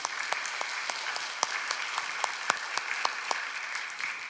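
A church congregation applauds during a Sunday worship service, steady dense clapping with sharper individual claps standing out, sustained at moderate level throughout without voices.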